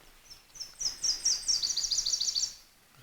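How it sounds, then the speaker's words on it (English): Small birds sing at sunrise at an overnight backpacking camp on the North Country Trail in Michigan, a quick run of bright, high chirping notes repeated in a rising flurry, close and clear, with no talk. "just listening to the birds"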